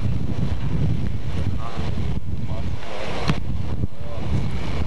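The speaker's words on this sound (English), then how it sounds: "Got a good wind to keep the flag blowing today." Strong wind buffets the microphone on the open deck of a boat, a steady loud roar with faint voices in the background.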